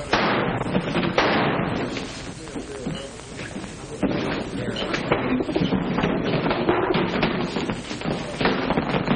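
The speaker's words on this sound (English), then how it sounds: "The shots came from the back door." Sharp bursts of sound crack in irregular succession, like gunshots, loud and close, with a brief lull midway before more shots follow.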